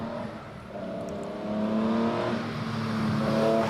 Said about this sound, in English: Another powerful car leaves the line. You'll have heard it.